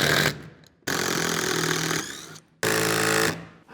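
Six-inch timber lock screws are power-driven into a hardwood beam in an old barn, heard as three loud, harsh, rattling bursts separated by short silent pauses.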